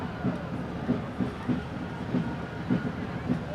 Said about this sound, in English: here comes Ken Roberson's 1950 Farm All tractor